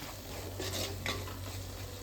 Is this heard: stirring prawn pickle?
yes